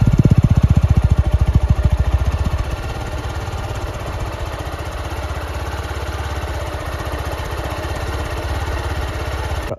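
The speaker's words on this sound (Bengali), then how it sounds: "একবার গাড়িটার সাউন্ড কোয়ালিটিটা শুনিয়ে দিই কেমন।" A 2025 Honda Unicorn motorcycle engine idling up close, with a loud, rapid, even thumping that settles slightly quieter after a few seconds and runs steadily on its own.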